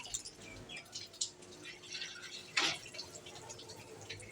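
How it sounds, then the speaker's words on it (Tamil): Water poured by hand from a vessel, a soft trickling splash with a brief louder gush midway, close by, with faint birdsong in the background. "தாத்தா ஊத்துறாங்க"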